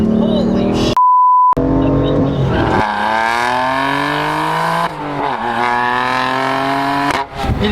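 Rear-wheel-drive BMW M4 engine revs hard while struggling for traction, loud climbing roars broken by shift dips and a short electronic beep early on, heard from the cabin with a voice talking over it.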